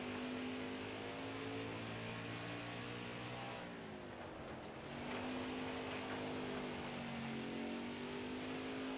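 A race car engine in the NASCAR Heat 5 video game drones steadily with no talk. Its pitch dips and slides back up midway, as if the throttle is eased off and then reapplied.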